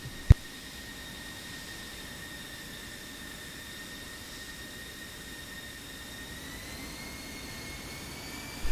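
Steady jet engine whine and broad rumble from airliners taxiing toward the runway in a flight simulation game, a continuous moderate drone with high tonal lines, one sharp click near the start, no talk.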